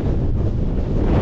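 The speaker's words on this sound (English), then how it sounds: "I was hoping to fly the drone, but it won't fly. It's too windy." Strong wind coming through the mountains at La Ventana, Baja California Sur, buffets the microphone in a steady low roar, with no voices.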